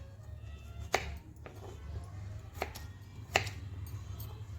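A kitchen knife cuts potatoes into medium pieces on a board, giving three sharp, separated chops over a quiet low hum.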